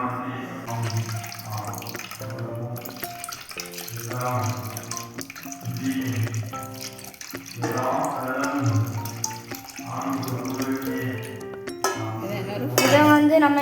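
A warm water base for a herbal moisturizer is poured into almond oil, giving a continuous close splashing trickle with small clinks of containers that swells and eases over several seconds.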